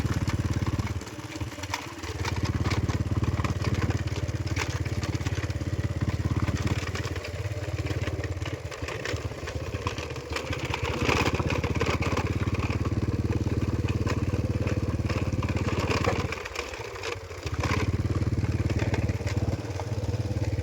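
A motorbike rides steadily through a rubber plantation, its mid-pitched engine droning loud and close with a few brief dips in level.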